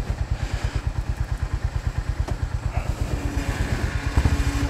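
A 2025 Honda GB350S single-cylinder motorcycle idles close by with a regular, thumping exhaust beat and a slight rise in revs near the end.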